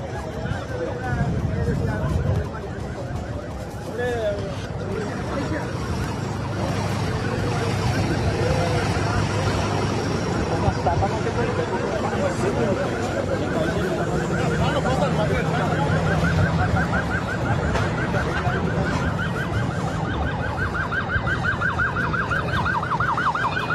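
Three ambulances with sirens wailing continuously, loud and sustained for the whole stretch, under traffic noise and with people talking at times.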